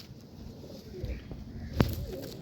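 A pigeon gives soft, low cooing at close range, with a short sharp burst partway through.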